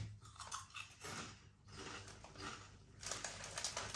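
Crunchy Cheetos snacks, including ketchup, pizza and sweet chilli flavoured ones, bitten and chewed close to the mic, a continuous run of loud crisp crunches in uneven bursts with brief pauses, no talking.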